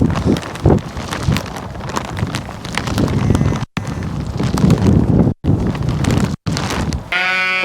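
Strong, gusty wind buffets the microphone outdoors on a farm during lambing, roaring in uneven surges with a few brief dropouts, loud and close throughout.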